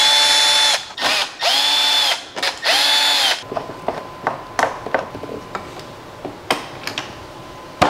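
An electric screwdriver removes Torx screws from a motorcycle's central tank panel in three close whirring bursts, followed by scattered light clicks and ticks as the screws and panel are handled.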